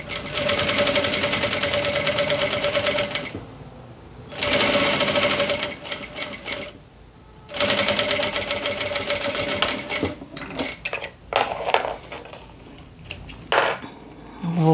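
A sewing machine runs in loud, steady bursts with short pauses, stitching a wide safety seam along synthetic fabric on a child's round fanny pack.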